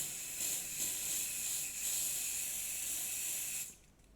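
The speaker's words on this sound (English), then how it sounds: "we're trying some of the Woodland Scenics spray glue." Woodland Scenics spray glue hisses from an aerosol can in a steady, close, sustained spray for several seconds with slight pulses. It stops abruptly near the end, during model railway scenery work.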